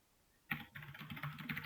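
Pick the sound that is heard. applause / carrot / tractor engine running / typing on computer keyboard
typing on computer keyboard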